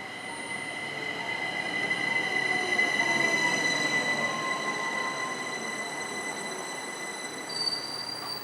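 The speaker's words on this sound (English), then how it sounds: "I will ride this train one station to get in front of the freight train" Riding aboard a Rhaetian Railway train near Ems gives a steady rolling rumble with bright, sustained wheel squeal rising and falling over several seconds, heard close from inside the car.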